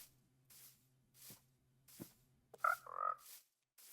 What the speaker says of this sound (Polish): O, żaba.